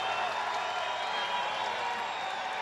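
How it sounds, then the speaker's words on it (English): A basketball arena crowd roars as Kyrie Irving leaves the floor after a 60-point Nets game, a dense, steady wash of cheering and applause at a distance without a break. "listen to this crowd as Kyrie Irving exits the floor"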